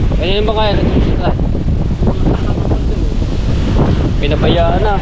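Strong wind buffets the microphone out at sea near a boat, roaring loud and continuous with the wash of waves beneath. Voices speak intermittently over the gusts.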